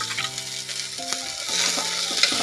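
Chopped onions frying in a pan for restaurant-style dal fry, a loud, close sizzle with stirring, joined by sustained tonal hums that shift partway through.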